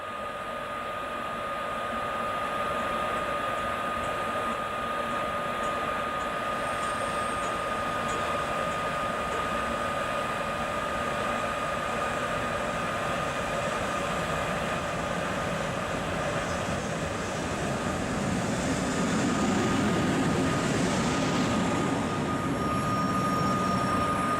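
IC intercity train Konopnicka pulling into a Warsaw station, a sustained rumbling roar with steady tonal engine hum building slightly louder toward the end, heard alone.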